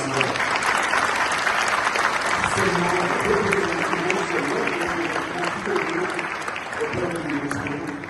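Loud, sustained applause fills a ceremony for World African Culture and Afro-Descendants Day, a dense crowd clapping continuously while voices and cheers rise through it in the second half.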